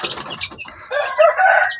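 Chickens cluck and squawk nearby in a short, loud burst, with a scratchy rustle before the calls.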